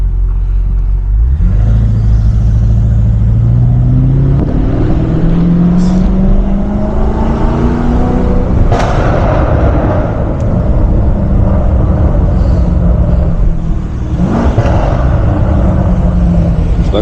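A 640 hp BMW M550i pulls hard on a late-night drive, its engine and exhaust roaring loud and close as the revs climb and fall through several shifts across the run.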